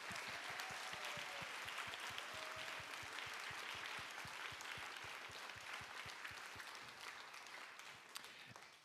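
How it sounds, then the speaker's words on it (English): Applause after a school spring concert performance, steady dense clapping from a crowd, faint and even, fading slightly toward the end. "Let's give them another round of applause."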